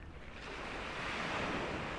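Calm sea waves washing at Glenelg, South Australia on a cool early morning, a steady soft surf wash with light wind noise on the microphone and no voices.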